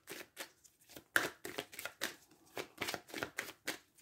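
Tarot cards being shuffled and cut by hand, a quick run of papery riffling bursts in an irregular rhythm, close and fairly quiet, with no voices.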